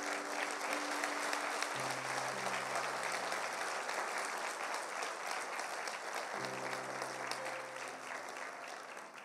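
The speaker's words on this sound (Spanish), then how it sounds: "Dale un aplauso al Señor." A church congregation claps for the Lord in a long, steady burst of applause, with a sustained organ or keyboard chord sounding beneath it and shifting midway.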